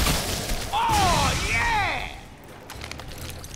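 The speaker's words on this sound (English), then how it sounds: "That little kind of poison explosion was actually my gun doing that" A poison explosion fired from a gun in the video game Shadow Warrior 2, a burst with swooping, whistling tones over game noise, then a duller tail.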